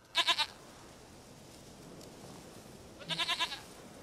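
Two bursts of goat bleating from The Witcher 3, each a quick run of wavering bleats, separated by a quiet stretch of faint ambient game background; no speech.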